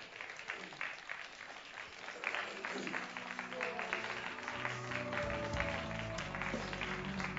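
A studio audience on a Bulgarian television show applauds a young band, clapping that starts softer and swells into a steady, full ovation, with low instrumental tones coming in under the later part.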